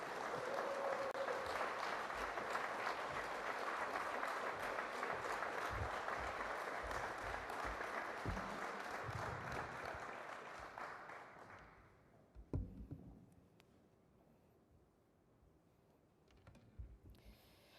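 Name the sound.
audience applause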